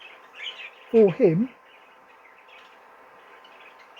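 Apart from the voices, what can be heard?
pair of zebra finches calling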